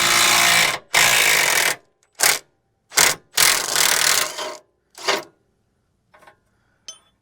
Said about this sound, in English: you're going to use a 19 socket on the outside,